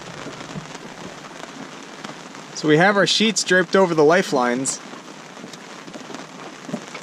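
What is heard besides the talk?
rain falling on a sailboat deck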